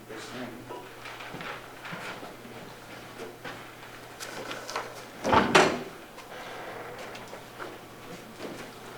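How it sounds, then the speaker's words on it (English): A door being opened during a meeting, heard as a mid-clip clunk and rattle of the latch and panel, moderately close, amid faint room noise and shuffling. "will you open that door?"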